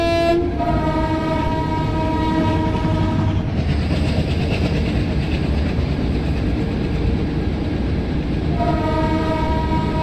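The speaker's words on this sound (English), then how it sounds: "So the freight train is crossing." A freight train passes in an Indian train simulator game: a loud, continuous rumble of rolling wagons with a sustained multi-tone horn at the start and again near the end, no speech.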